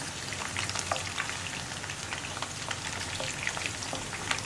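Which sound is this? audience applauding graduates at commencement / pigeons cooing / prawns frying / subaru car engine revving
prawns frying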